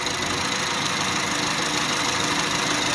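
Honda Fit engine idling and bogging down with a component not fully connected, a close, loud, steady mid-pitched drone with faint knocking, no talk.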